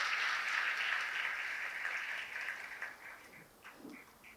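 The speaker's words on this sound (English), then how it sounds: "A big round of applause to him." Audience clapping for a tabla maestro at a disability-celebration event, steady applause that thins out toward the end, with a few scattered claps and faint voices.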